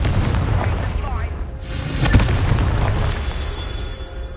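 A Confringo fire spell blasts in Hogwarts Legacy, a loud booming burst with a sharp hit near the middle over a dense rumbling game soundscape.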